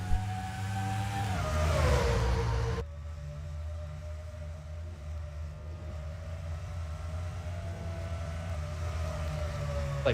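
NASCAR race cars at Nashville accelerating off the start and racing into turn one during a 2006 MBNA All-American Heroes 400, a loud, sustained engine roar whose pitch sweeps as the pack passes, then a steady drone from the field.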